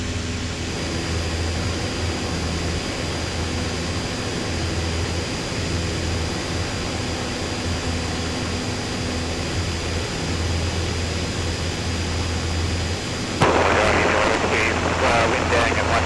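Steady drone of a light aeroplane engine in flight near Wollongong Illawarra, a constant close cabin roar with a sustained whine, shifting to a rougher, noisier tone near the end.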